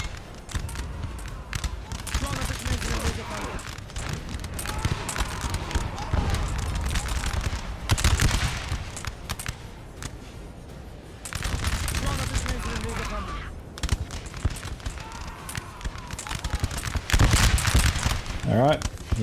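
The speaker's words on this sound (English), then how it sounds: "There's been a few good artillery strikes." Artillery and musket fire crackle and boom in a Napoleon: Total War siege battle, dense volleys and distant blasts rolling in waves with occasional louder bursts, continuous battlefield din.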